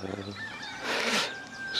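Birds call outdoors beside a pond behind a house, a honking, fowl-like cry followed by thin whistled notes over soft ambient hiss at moderate distance.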